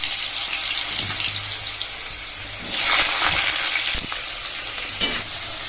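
Potatoes fry in a pan in a home kitchen, giving a steady broadband sizzle with occasional stirring scrapes and a brief louder swell near the middle, with no talk over it.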